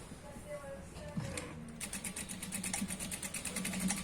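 A sewing machine runs a straight line of stitching on the pocket of an ankle-length pant, a faint, quick rattling chatter that starts partway through after quieter handling sounds.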